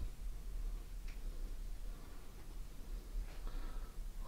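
A pendulum clock ticks in a quiet funerary site, a faint, steady tick-tock sitting under a low rushing background noise, with no voices.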